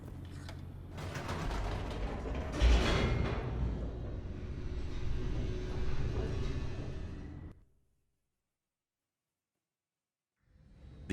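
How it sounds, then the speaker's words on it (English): A mechanical elevator descends in The Stanley Parable, a grinding, creaking rumble with clanking gears that runs for several seconds and then stops abruptly into silence. "The elevator raced downward, plummeting towards an unknown fate."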